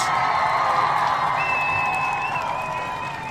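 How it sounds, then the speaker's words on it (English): A crowd applauds steadily throughout, with scattered cheers and whoops rising over the clapping. "Give them a round of applause."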